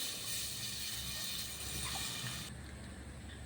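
Strained tamarind water poured from a vessel into a pan of sardine fish curry with sautéed tomatoes, a steady close liquid pour with splashing that stops abruptly near the end.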